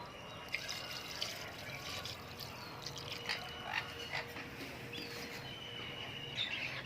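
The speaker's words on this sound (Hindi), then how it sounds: "आप लोगों को यहाँ पे तोतों की तो आवाज़ आ रही होगी" Parrots call outdoors beside a kitchen cooking chicken feet, their sharp, scattered chirps and squawks popping up intermittently at a moderate distance over faint background hiss and dripping water.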